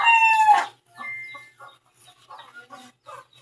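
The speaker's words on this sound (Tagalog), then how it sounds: "Oh, mga manok." A rooster crows briefly up front, followed by scattered soft clucking from chickens nearby.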